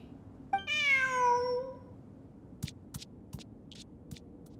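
A cat meows once, a clear rising-then-falling call in Genshin Impact, followed by a few soft scattered ticks and faint clicks over a quiet background.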